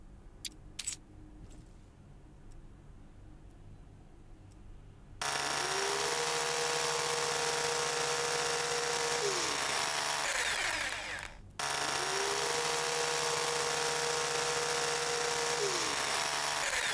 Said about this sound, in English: Out the drill.